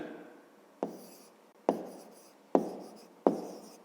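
A pen writes on paper during a fifth-grade maths lesson, four distinct strokes, each a sharp tap followed by a fading scratch, close and fairly quiet.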